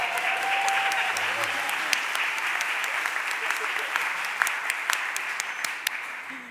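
Applause from an audience in a city council chamber during a stated meeting, a broad sustained clapping that holds steady and loud, with a faint voice briefly audible underneath near the start.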